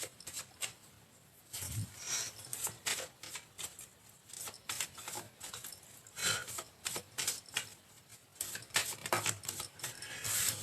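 A deck of tarot or fortune-telling cards being shuffled and cut by hand, a close run of soft riffling, flicking and tapping clicks in uneven bursts, with no speech.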